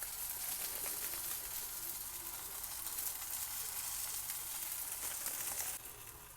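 A smash burger patty sizzles in a frying pan with a continuous crackling hiss that stays loud and even, then drops noticeably quieter near the end.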